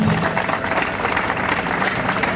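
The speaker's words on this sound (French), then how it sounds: "Vos acclamations s'il vous plaît" A crowd claps in a steady, continuous wash at a public ceremony in the Democratic Republic of Congo, moderately loud and without speech.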